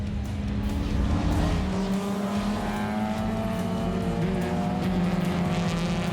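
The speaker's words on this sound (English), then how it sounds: "Fantastic racing by the Lotuses here as they head up the hill towards Sassol Corner." Lotus race cars climb a hill in close company, engines roaring steadily and loudly together, with rising and falling revs and no talk over them.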